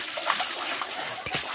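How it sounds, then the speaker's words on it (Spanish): Cold water splashing onto a person outdoors in the street, a broad continuous wash of spray and splatter, close and fairly loud, with a brief heavier splash near the end. "Es que esta agua está helada. Ay, me mojaron."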